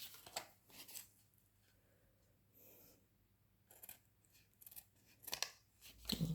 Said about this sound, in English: then we'll cut it off here at the bottom.